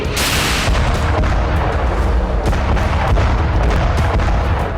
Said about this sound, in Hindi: ये FAB 500 बम का धमाका था।